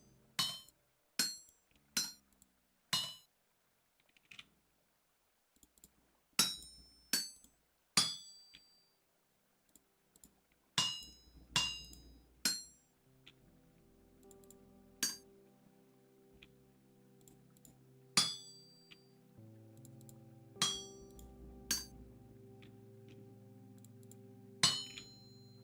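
Hammer strikes on metal at an anvil in the Vintage Story game, a long run of sharp ringing clangs at irregular intervals, some in quick pairs, with a soft musical background and no talk.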